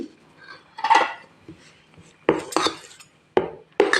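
A spoon stirring rava paddu batter in a bowl gives several sharp clinks and scrapes against the bowl in irregular bursts, close and fairly loud, with no talk.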